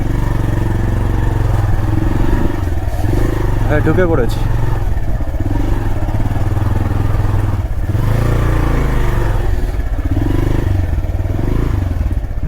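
A motorcycle rides and turns through a narrow alley in Marpha village, its engine a loud, continuous rumble with clattering and scraping along the way, while a person talks over it.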